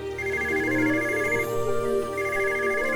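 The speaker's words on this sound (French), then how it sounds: "On lui répond au téléphone avant qu'il nous raccroche au nez." A telephone rings in the Alexandra Ledermann horse-ranch video game, a repeating electronic ringtone in two bursts over steady background game music.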